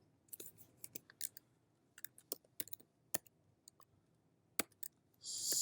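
Someone types on a computer keyboard while building a form in Word 2016, producing faint, close, irregular key clicks in small clusters, with a louder rustling swell at the end.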